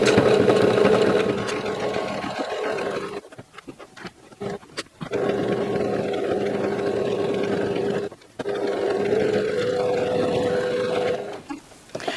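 Sewing machine doing machine appliqué on a quilted gnome table runner, running in close bursts of rapid stitching broken by short pauses for pivoting, with no voices.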